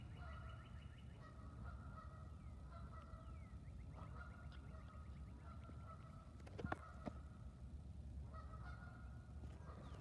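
Two geese honk repeatedly in bursts by a river, loud and fairly close, with brief pauses between calls and a couple of sharp knocks near the middle.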